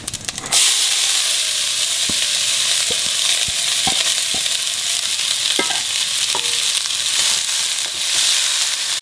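Cumin seeds and onions fry in hot olive oil, a loud, steady, close sizzle with sputtering, broken by scattered clicks and scrapes of stirring.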